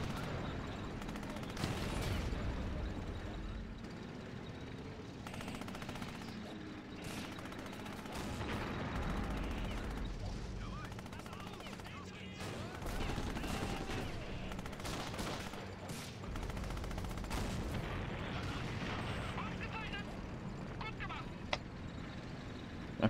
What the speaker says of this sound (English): I can hear an artillery piece about here.